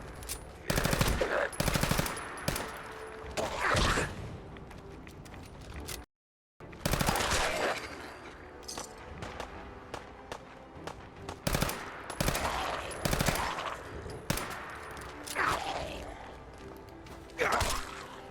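Gunfire in the Fallout 4 video game: dense bursts of rapid automatic shots and sharp blasts, loud and close, repeating through most of the stretch amid a busy game soundscape with a voice speaking at times.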